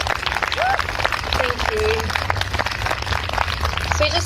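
An audience applauds at a talk, a dense crackle of clapping running throughout while a voice speaks over it.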